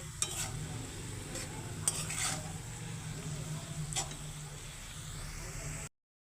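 Lote greens cooking in a pan are stirred with a utensil, a close scraping and stirring over a soft steady sizzle, with a few sharper scrapes and a sudden cutoff at the end.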